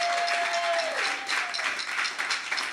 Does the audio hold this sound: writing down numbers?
no